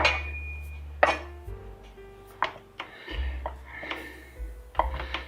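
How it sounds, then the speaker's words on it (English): A knife cuts through cold cooked meat on a board in a home kitchen, giving a few separate scraping, knocking cuts over a low steady hum, with light clatter from the surrounding cookware. "I'm going to just cut it down. And we're going to slice it up"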